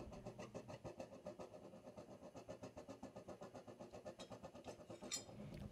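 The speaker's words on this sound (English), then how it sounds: "The reason why the furnace is making puffing sounds here is because I turned the propane extremely low" A propane melting furnace, set up for sand casting scrap aluminum, puffs with the gas turned very low, making a steady rapid chugging pulse that runs evenly throughout, close and moderately loud, with no talk.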